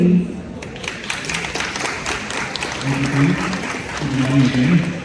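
Audience applause at a motor show in Singapore welcoming a car group CEO on stage, a steady spread-out clapping that swells toward the end, with tonal background sound in the hall.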